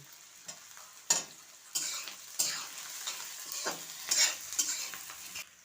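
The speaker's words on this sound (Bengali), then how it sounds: "পেঁয়াজের সঙ্গে ক্যাপসিকামটাও আমি দিয়ে দিচ্ছি" Onion and capsicum fry in a pan under a soft, quiet sizzle, broken by repeated scraping strokes of a spatula stirring every second or so.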